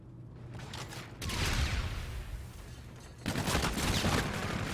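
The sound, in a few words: gunfight gunfire in Call of Duty video game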